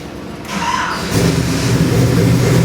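A 572 cubic inch big-block Chevy crate engine built for a 1968 Chevy K10 cranks briefly on a dyno, then fires and settles into a loud, close, rumbling idle with no talking.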